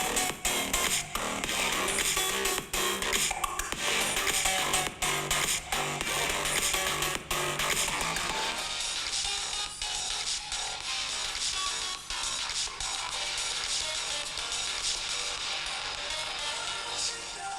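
Music played through the stereo speakers of two Xiaomi tablets, a T10s and a T8, in turn, with a brighter, fuller sound in the first half and a thinner, duller one after about nine seconds.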